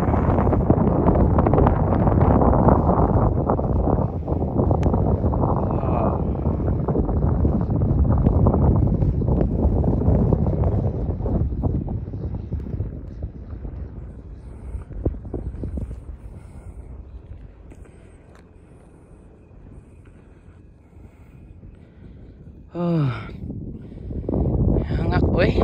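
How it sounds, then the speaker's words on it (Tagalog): Strong wind sweeps across desert sand dunes, buffeting the microphone with a loud, continuous roar that eases briefly near the end. Voices talk over it. "hangin kaayo no, ang hangin nagdala yun siya o balas"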